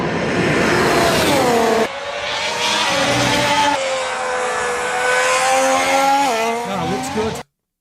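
A Ferrari Formula 1 car screams past on track, its engine loud and high-pitched with rising and falling revs through gear changes, a brief drop midway and then cutting off abruptly at the end.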